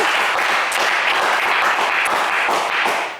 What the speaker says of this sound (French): Allez, on applaudit Daniel